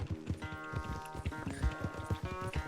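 Horses gallop hard during a race in Red Dead Redemption 2, hooves pounding in quick, uneven clusters close by while musical tones play underneath.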